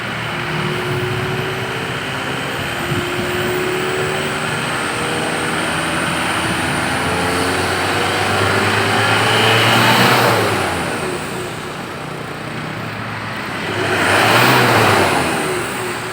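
A tuned 2010 Isuzu Panther LS Turbo diesel engine idles with a low rumble, then revs up twice in smooth swells, loud and close, after a second tuning.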